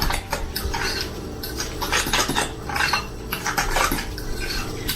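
Spoon scraping and clinking in a bowl as cumin is mixed into guacamole, a steady run of close, repeated metallic taps and stirs with no talking.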